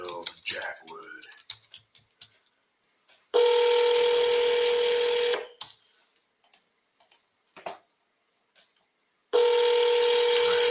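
Telephone tones while placing an outbound call to a seller: two long, steady, loud ringback tones separated by several seconds of clicks and brief sounds.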